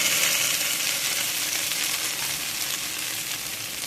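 Cauliflower and egg curry masala sizzles steadily while being sautéed in a pan, a bright, continuous frying hiss close up, gradually easing slightly, with no talk.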